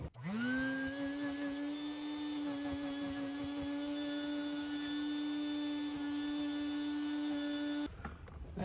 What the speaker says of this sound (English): And now I'm going to hit it with the vacuum.